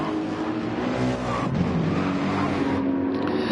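Race cars roar around a track in the GT Challenge racing game, including a Porsche, engines droning loudly and continuously with shifting pitch and a brief dip midway.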